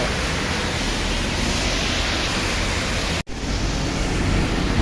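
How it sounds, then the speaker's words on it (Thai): A steady, dense roar of heavy rain with a windy hiss, loud and unbroken apart from one split-second dropout. "นี่ฝนตกมีลมด้วย"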